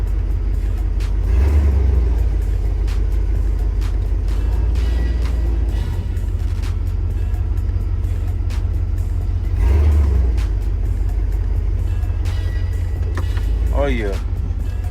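Chevy Silverado 3500 dually pickup with a newly replaced 4L80E transmission, its engine a steady low rumble close by as the truck pulls away, with brief swells of effort and occasional voices over it.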